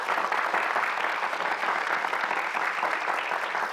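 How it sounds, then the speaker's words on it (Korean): An audience at a Korean government talk-show broadcast applauds steadily, a dense, even clapping that holds without pause and without voices on top. "장관님께 여러분 큰 박수 한번 부탁드리겠습니다."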